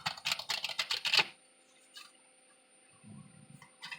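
A deck of playing cards riffled in a quick burst of crisp, rapid flutters over about a second, then near silence with a faint low rumble later.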